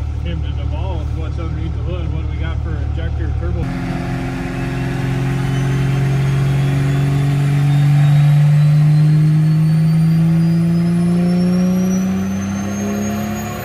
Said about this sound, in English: this is the nitrous hit